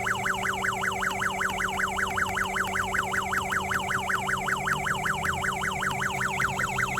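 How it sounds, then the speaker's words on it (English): Temperature alarm on a homemade cooler air conditioner sounds a steady, rapidly warbling electronic tone, looping continuously and fairly loud over a low steady hum, with no talking. "So you'll see how the alarm works."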